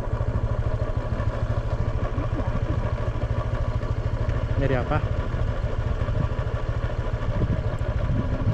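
A motorcycle engine runs steadily while riding along a smooth road in Belitung, a low continuous throb close by, with a voice speaking briefly over it.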